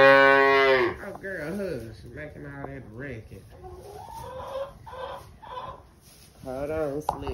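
A calf bellows loudly at the start, then gives several shorter moos among other farm animals, one close, loud call returning near the end, with a person talking softly in between.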